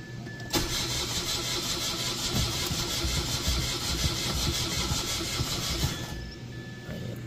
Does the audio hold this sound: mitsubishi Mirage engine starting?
yes